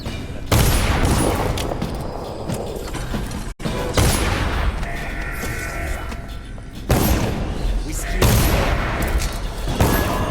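Gunfire crackles in the Dishonored video game as dense, loud bursts of shots and booms come in waves, with a brief drop in the middle.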